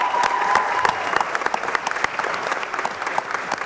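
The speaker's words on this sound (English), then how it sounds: "These kids really deserve a round of applause" A crowd at a school board meeting gives steady, lively applause for elementary schoolchildren, with individual claps standing out through the dense clapping.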